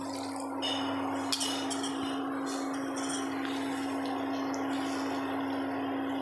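Water swishes in a poppy-seed bowl as it is rinsed while Bengali lau posto is cooked, with a few sharp clinks and soft splashes over a steady kitchen hum.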